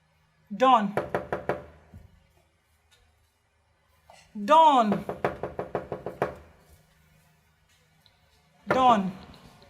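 Three bursts of knuckles rapping on a door, each a quick run of six to eight loud, close knocks, separated by silent pauses.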